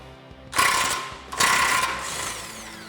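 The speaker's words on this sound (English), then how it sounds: "with a 21mm socket on our impact gun, we're gonna go ahead and disconnect our tie rod end" An impact gun fitted with a 21mm socket disconnects a car's tie rod end from the steering knuckle, two loud close rattling bursts of hammering, the second slightly longer, with no talk.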